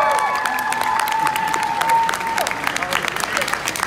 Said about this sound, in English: Give a big round of applause to Carrie, ladies and gentlemen.